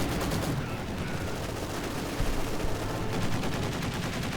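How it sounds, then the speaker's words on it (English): Field guns firing in a WWII strategy video game, a dense, continuous barrage of loud booms and crackling gunfire with no let-up and no voices. "more field gun fire, though for some reason just at a blank piece of dirt"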